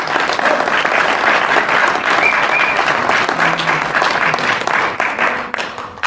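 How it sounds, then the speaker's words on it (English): A crowd claps steadily and loudly for several seconds at a folk concert, the applause tapering off slightly at the end. "can we have a very big thank you to Stephen and also Marlene on sound"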